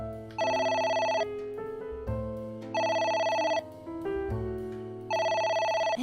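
Telephone ringing in the video game AI: The Somnium Files, a loud electronic ring repeating in three bursts with tonal pauses of game music between them.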